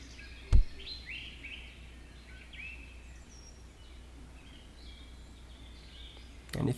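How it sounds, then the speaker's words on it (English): Game forest ambience from Second Life carries a string of soft bird chirps and tweets at mid distance over a constant low hum, framed by two brief sharp knocks at the start and end. "a nice ambience of hearing the bird noises too"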